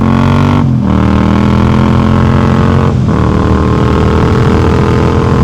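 Engine of a 2022 Yamaha MT-07 LAMS motorcycle revving hard in the lower RPM range, a loud steady throaty drone with two brief dips where the throttle eases off between pulls.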